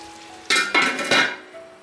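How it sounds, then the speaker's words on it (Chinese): A metal lid is set onto a wok of braising potatoes, giving a few sharp clanks and clinks over a faint background sizzle. "可以盖上锅盖，让马铃薯焖给它入味。"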